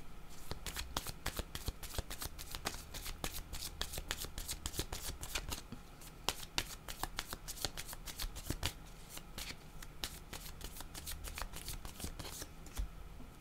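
Playing cards shuffled for a card reading, repeated crisp riffling and snapping bursts at a close, fairly quiet level with short pauses between shuffles.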